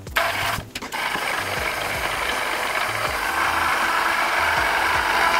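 A 12V, 3-ton electric scissor jack's motor runs with a continuous grinding, ratcheting whir after a brief stutter at the start, close and steady throughout.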